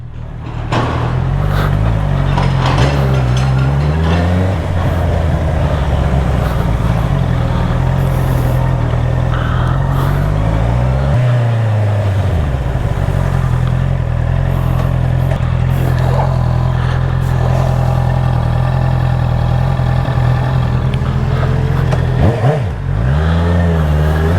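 A loud engine roars and revs repeatedly up close, its exhaust note rising and falling over a heavy, constant rumble.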